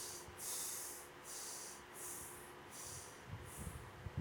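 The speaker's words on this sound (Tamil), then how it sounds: "முதல்ல 3 முறை மூச்சை உள்ளெழுத்து மூச்சை வெளியே விடுங்க." Slow yoga breathing, heard as five soft, airy hissing breaths in even succession, close and quiet, with a faint hum underneath.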